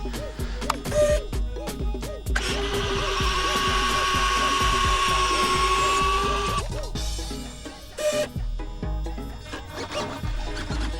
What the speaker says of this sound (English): let's go ahead and cycle the landing gear